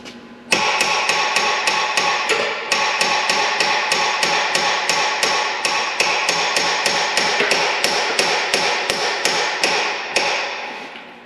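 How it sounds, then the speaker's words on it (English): Steady, rapid hammer blows ring out one after another, loud and close, keeping an even rhythm for several seconds before stopping. "I might need a bigger hammer"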